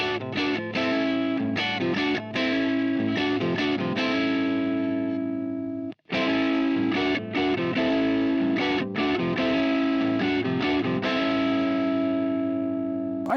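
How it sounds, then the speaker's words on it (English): Electric guitar with its volume knob rolled back to 2, played through an Axis Fuzz pedal for a cleaner rhythm tone: steady strummed chords, lightly fuzzed and sustained, continuous except for a brief gap near the middle. "I've reduced my guitar's volume to 2 and I'm kicking in the Axis Fuzz for some"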